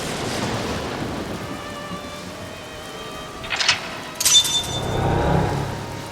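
Rain and a rumbling thunderstorm in AI: The Somnium Files, a steady wash of rainfall with two sharp crackling lightning strikes in quick succession and a low, rolling thunder rumble trailing after.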